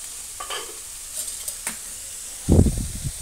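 Vegetables cooking in a pan, just uncovered after steaming, crackle softly while a few light spoon scrapes are followed by a louder, busier burst of stirring near the end, close and without speech.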